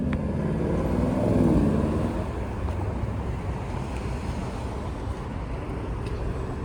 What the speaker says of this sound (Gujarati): બહુ જ પવન છે.